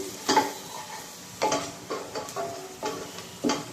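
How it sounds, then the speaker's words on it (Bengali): Chopped onions and garlic sizzle in foaming mustard oil while a spoon scrapes the pan every half second or so, close and steady, with no talking. "এখন পেঁয়াজটা ভাজা হয়ে গেছে"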